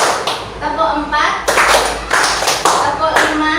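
Several hands clap in a counted rhythm during a group activity, with sharp claps landing in evenly spaced groups over steady spoken counting close by.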